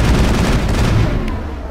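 Gunfire in the Mass Effect video game, a dense, sustained burst of shots close up that holds steady through the whole moment before easing slightly at the end, with no talk over it.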